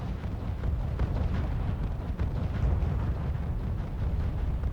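An artillery salvo in the R.U.S.E. video game, a dense rumbling roll of overlapping explosions with no gaps between them, steady and fairly loud throughout.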